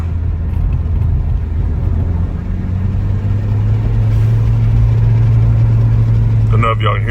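A 2010 Hyundai Genesis Coupe R-Spec 2.0T with a GReddy blow-off valve drones loudly and steadily under load on hilly roads, heard from inside the cabin, with a brief airy hiss near the end.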